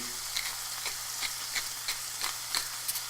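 Bacon sizzles in an ungreased pan over medium-high heat, a soft steady crackle with small regular pops and spits every third of a second or so, close and quiet, no voices.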